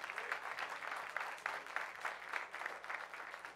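A comedy club audience at the Virginia Beach Funny Bone applauds a guest comedian during a graduation show, a soft, fairly distant patter of clapping that swells and pulses throughout.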